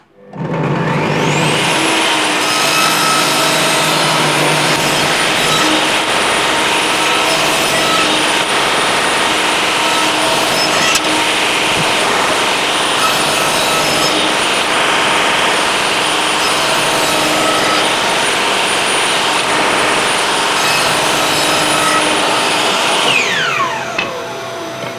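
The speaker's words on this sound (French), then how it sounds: "il suffit simplement de baisser la lame, de venir se mettre là où on veut pour faire le rainurage. On va venir faire quelques passes successives" A Bosch GTS 10 XC table saw cuts grooves in wood with successive passes, its motor spinning up to a loud, steady whine that holds for about twenty seconds before winding down at the end, with no talking.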